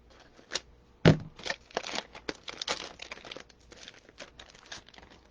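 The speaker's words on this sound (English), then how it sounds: "all of her signs come in a plastic cover, which I really like. It's been in here so long, I'm going to have to cut it off." A plastic cover is cut off a sign, producing close, irregular crinkles, crackles and sharp snips in quick bursts, with no voices.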